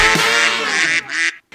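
One loud, close duck quack effect gives a long, nasal, buzzy call of about a second and a half, with a brief second burst, alone and without talk.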